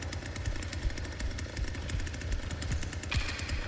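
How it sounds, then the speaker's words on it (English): A chainsaw in The Texas Chain Saw Massacre video game roars continuously with a rapid, rattling buzz, loud and steady throughout without any talk. "I got this big ass chainsaw in my hands"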